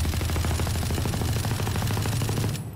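Rapid automatic gunfire from a video game, fired while the character stays crouched and holds still, a dense unbroken stream of shots that runs loud and steady for nearly three seconds and then stops abruptly.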